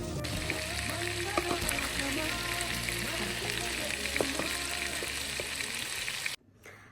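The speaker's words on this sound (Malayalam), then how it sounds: "അപ്പം ഇതും കൂടെ ഫ്രൈ ചെയ്തെടുക്കാം." Pieces of chicken marinated in masala fry in hot oil, giving a loud, continuous sizzle with scattered pops and crackles before the sound cuts off abruptly near the end.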